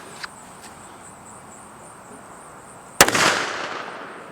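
A Kel Tec PMR30 pistol fires a single .22 magnum round, a 30 grain Hornady varmint bullet, into a truck hood outdoors. One sharp loud crack rings out with a short decaying echo after near silence and a steady insect drone.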